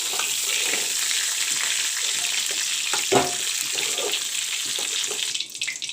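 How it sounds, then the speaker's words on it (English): Cauliflower and potato pieces fry in a pan for a village-style curry, giving a loud, steady, continuous sizzle throughout with a brief louder crackle partway through and no talking. "The cauliflower and potato is fried up."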